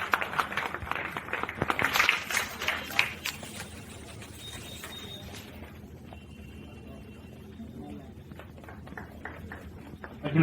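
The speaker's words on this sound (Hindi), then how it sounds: "ताली बजा सकते हैं हम लोग" Audience clapping at a literary seminar in a hall, loud and dense at first and then thinning to scattered claps that pick up again near the end.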